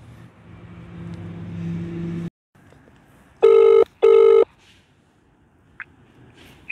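A phone line being redialed after a dropped call: two loud, steady electronic ring tones of about a second each with a short gap between, following a low hum and then quiet.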